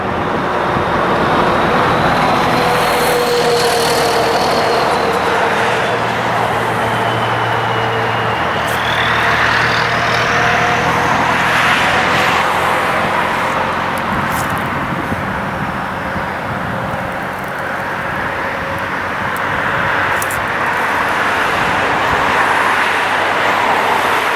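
Road traffic passes outside a middle school, a continuous moderate roadway rumble with vehicles swelling and fading at a distance and no voices.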